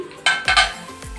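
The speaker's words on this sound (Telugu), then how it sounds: "మూత పెట్టేస్తున్నాను." A lid is set down on a pan of Andhra-style masala crab fry, giving two or three close, sharp metallic clanks over a faint sizzle.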